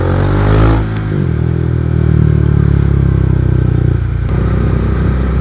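Kawasaki Dominar 400 with an aftermarket muffler running on the road, a loud continuous engine drone with a low rumbling note and a brief throttle swell near the start, alone with no talk.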